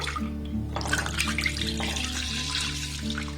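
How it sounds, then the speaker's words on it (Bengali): Packaged liquid milk pouring from packets into a pan on a gas stove, a steady splashing, gurgling stream close by, continuous and moderately quiet. "এবার যে লিকুইড দুধের প্যাকেটগুলো নিয়েছি এখানে দুধটাকে আমি ঢেলে দেব।"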